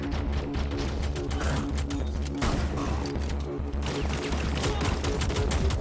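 Enemies firing in Rainbow Six Extraction, with dense overlapping bursts of gunfire and heavy low rumble running continuously, loud and close, while voices speak underneath.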